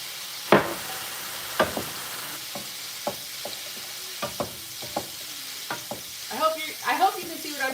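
Shrimp fried rice sizzles softly in a pan while being stir-fried, with repeated scraping and tossing strokes of a utensil, close and moderately loud, and no clear talking.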